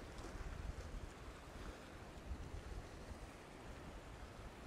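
Westerly wind picking up at sea around a small fishing boat: a steady broadband rush of wind and surf with buffeting on the microphone, constant and fairly faint, no voices.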